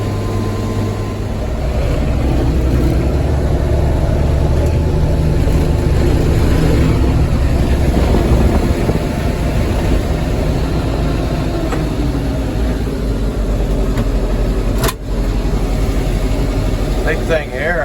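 A tractor driven through heavy road traffic, its engine a loud, steady low diesel rumble that runs throughout with a brief drop near the end, while someone talks over it.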